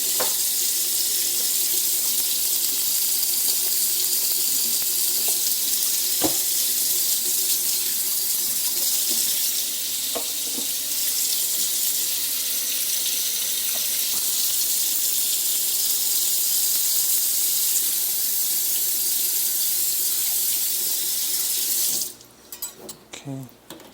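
Tap water runs steadily at a kitchen sink while hands are washed after handling raw turkey, a continuous broadband rush lasting about twenty-two seconds with a few small clinks before the flow stops abruptly.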